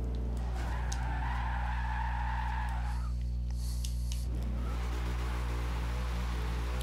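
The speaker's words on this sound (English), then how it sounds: "Got more wheel spin, didn't control it as well" Tyres of a Foxbody Mustang drag car spinning and squealing in the Forza Horizon 2 video game, a long screeching skid over a constant engine drone that breaks off midway, then resumes more roughly.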